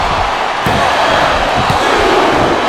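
A capacity crowd at a WWE wrestling arena roars steadily and loudly throughout, a dense wall of cheering with a couple of brief sharp thumps rising out of it.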